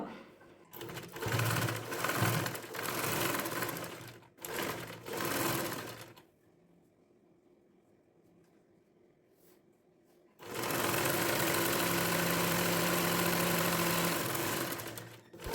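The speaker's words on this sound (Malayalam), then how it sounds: "ഫ്രണ്ട് പാർട്ട് സ്റ്റിച്ച് ചെയ്ത് കഴിഞ്ഞു" A domestic sewing machine stitches a baby frock in two long, loud whirring runs separated by a quiet pause, its steady mechanical hum close to the microphone.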